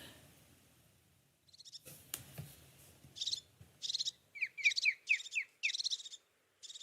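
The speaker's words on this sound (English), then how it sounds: "So there's crested tit and osprey to start with." Recorded calls of a crested tit and an osprey: a quiet series of short, high, rapid trilling chirps and piping notes, repeated in bursts over faint background noise.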